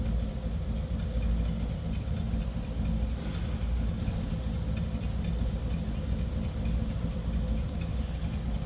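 A 1961 Chevrolet Impala two-door hardtop with its 348 V8 idling, a steady, loud low rumble from close by with no talking.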